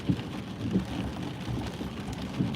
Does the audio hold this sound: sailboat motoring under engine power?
no